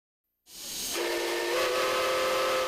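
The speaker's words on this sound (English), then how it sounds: "With the roar of a whistle and a rush of white steam" A steam train whistle blasts after a brief silence, holding a steady loud tone over a broad rush of hissing steam.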